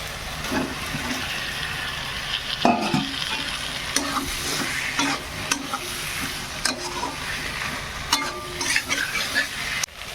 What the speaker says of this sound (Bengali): এই মশলার মধ্যে আমি এগুলো দিয়ে দেবো মশলা থেকে তেল ছাড়ছে